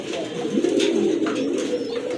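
A Gazi Modana pigeon coos in a continuous low, throaty rolling call that carries steadily for a couple of seconds, close by and fairly loud.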